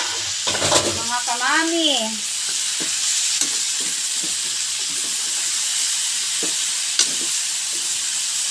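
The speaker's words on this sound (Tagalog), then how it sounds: "Sabay-sabay ko nang ihalo yan, mga guys." Bitter gourd, eggplant and okra sizzle steadily in a pan while being stirred, with occasional scrapes and clinks of a utensil; someone speaks briefly near the start.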